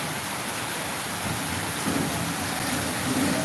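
Steady rain falls on a rainy day, a dense even hiss with no breaks, fairly loud and close, with a faint low rumble in the background.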